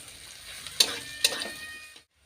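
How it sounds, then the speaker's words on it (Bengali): Chopped onions frying in a pan, a quiet sizzle broken by two sharp stirring scrapes before cutting off into silence. "পেঁয়াজ কুচি দিলাম, এটা ভালো করে ভেজে নিলাম"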